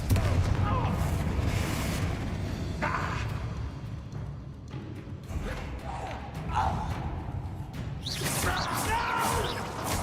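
A Confringo fire spell blasts in Hogwarts Legacy amid dense combat noise, with rumbling booms, crackling bursts and mechanical clatter rolling on continuously, loud and layered throughout.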